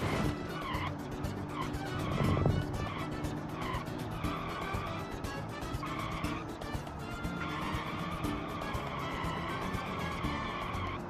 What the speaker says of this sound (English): Nothing but wheel spin.